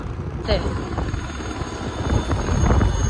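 A landing helicopter's deep rotor rumble drones steadily and grows slightly louder toward the end, with faint voices in the background.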